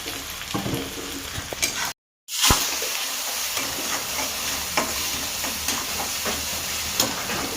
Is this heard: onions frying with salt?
yes